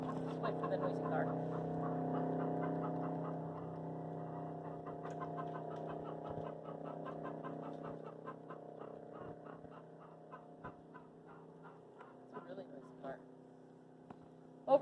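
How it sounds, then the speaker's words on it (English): A noisy car passes by a high-altitude vegetable garden, its low engine drone holding steady and fairly faint for the whole stretch before tapering off, with a sharp knock at the very end. "let's wait for the noisy car"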